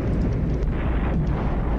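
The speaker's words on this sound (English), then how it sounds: "More artillery hits my motorized rifle troops as we try to destroy this Milan anti-tank guided missile unit." Artillery fire striking motorized rifle troops in a war strategy video game, heard as a loud, continuous rumbling roar of explosions that fills the whole moment with no pauses and no talking.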